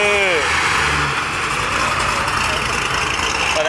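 A supercharged car engine fitted with a ProCharger idles at an outdoor car show, a loud, steady, close rumble with a whining upper tone, while people talk faintly over it near the start.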